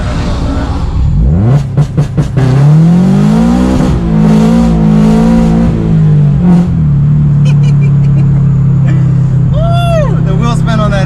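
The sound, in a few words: supercharged Subaru BRZ launching with wheel spin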